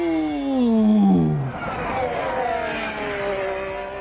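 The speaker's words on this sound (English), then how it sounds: "Why does the Ferrari always sound so light?" A Formula 1 Ferrari race car at preseason testing sweeps past, its high-pitched engine note rising then dropping sharply as it passes and fades, followed by a quieter engine drone in the distance.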